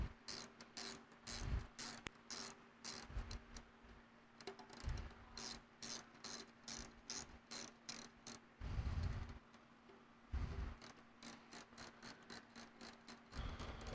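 Faint, steady clicking of a ratchet backing out the retention bolts on a shaft end clamp, in repeated bursts of rapid pawl ticks separated by short pauses, with occasional low knocks throughout.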